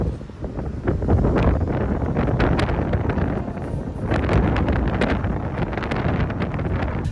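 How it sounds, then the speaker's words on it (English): Strong wind buffets an RV with its slide topper being yanked up, a loud continuous roar and rumble with gusty surges and rattling, no voices. "the wind is insane"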